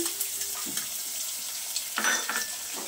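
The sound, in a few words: tomatoes added to sautéing onion in pan, frying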